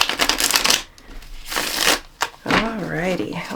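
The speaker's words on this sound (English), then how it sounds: "Oh, that was a good shuffle." A deck of tarot cards riffled and shuffled in quick papery bursts, with someone talking between and over the shuffles.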